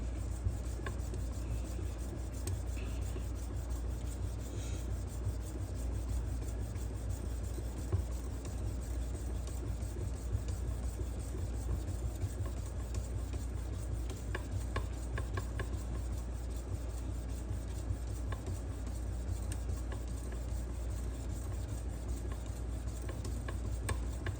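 A knife edge rasps back and forth on a fine 9000 grit sharpening stone clamped in a Tsprof guided sharpener, a soft, steady scraping that runs continuously and quietly without talk.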